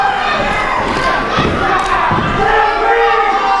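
A loud wrestling crowd cheers and yells for Bobby Orlando, a dense, continuous roar with a few heavy thumps from the ring partway through.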